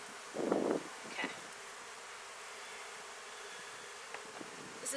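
Honey bees from a mountain hive buzzing outdoors, a dense steady insect drone throughout, with one bee passing close and loud near the start and a few brief nearer buzzes later.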